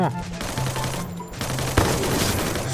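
Rapid gunfire in the battle royale game Free Fire, a dense continuous volley of close, loud shots with one harder burst partway through.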